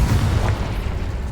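The Confringo explosion spell in Hogwarts Legacy bursts with a deep, rumbling boom that lingers briefly as a low roar.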